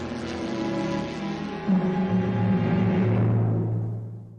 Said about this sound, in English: God, it's a prop plane. Is that a DC-3?